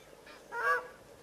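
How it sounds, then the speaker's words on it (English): A single faint honking call from a South African shelduck, short and distant against quiet background noise at a waterhole. "South African shelducks making that sort of honking sound in the distance"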